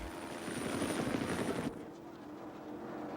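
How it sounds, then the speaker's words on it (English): Medical helicopter flying close by at a racing crash scene, a loud steady rotor thrum with dense engine whine that drops in intensity partway through and continues more softly. "The medical helicopter was stationed only seconds away."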